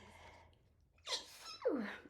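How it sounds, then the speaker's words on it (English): A quiet breath draws in, then a single sharp sneeze bursts out close by, followed by a short breathy exhale. "And I'm going to sneeze."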